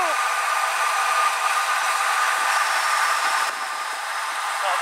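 Headwind rushes past a cyclist descending Woolsey Canyon, producing a loud, constant, close roar of wind buffeting that fills the whole stretch with no other clear sound.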